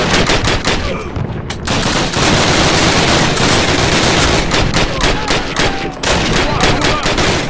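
Dense, continuous gunfire from the World War II shooter Call of Duty 1 fills the scene, loud overlapping rifle and machine-gun shots crackling without letup.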